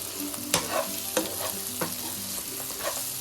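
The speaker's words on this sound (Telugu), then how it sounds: "తిప్పుతూ ఉండాలి." A spoon stirs bitter gourd fry in a pan after coriander powder is added, producing a few scraping stir strokes over a steady background sizzle of frying, close and moderate in level, with no speech.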